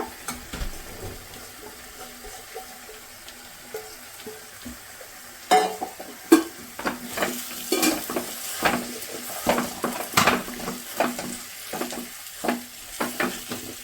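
Potato palya being mixed and stirred in a pan, with a steady low sizzle that picks up into repeated scraping strokes and clinks of a spoon against the pan partway through.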